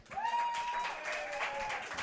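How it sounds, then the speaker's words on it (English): At a powerlifting meet in the UAE, a crowd cheers and applauds for a lifter. The noise is a brief, faint, distant wash of clapping with raised voices. "Big noise in the crowd for Ahmed Farid Hamed."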